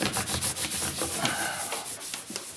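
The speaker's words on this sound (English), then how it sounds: "This is the sound of Bartow throwing charcoal on a huge canvas in his studio." Charcoal scraped and scrubbed vigorously across a huge canvas by Rick Bartow in his studio: a continuous, close, gritty rubbing with quick repeated strokes and no voices.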